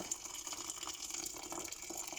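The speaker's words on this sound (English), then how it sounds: "we'll just add some water and then let this boil" Water pours steadily into a pot of washed mixed dal, a continuous close splashing gush that lasts the whole moment without pause.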